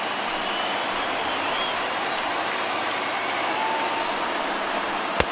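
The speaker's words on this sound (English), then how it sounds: "listen to this crowd now. They are really into this." A stadium crowd in MLB The Show 20 cheers during a late Red Sox–Yankees rally, a constant dense roar of voices with one sharp crack near the end.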